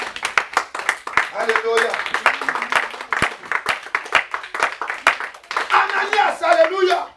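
Church congregation claps in rapid, rhythmic bursts, joined by cheering and shouted voices, loud and close throughout.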